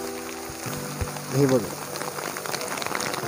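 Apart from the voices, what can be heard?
heavy rain falling at Pahine waterfall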